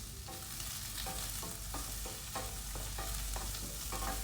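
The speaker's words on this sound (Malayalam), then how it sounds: "ചെറുതായിട്ട് നൈസായിട്ട് അരിഞ്ഞ് വെച്ചിട്ടുള്ള സവാള ഇട്ട് കൊടുത്ത് നന്നായിട്ടൊന്ന് സോട്ട് ചെയ്ത് കൊടുക്കാം." Finely chopped onions sauté in oil in a pan under a continuous soft sizzle, with a spoon scraping and stirring in regular strokes roughly every half second. Close and fairly quiet, no voices.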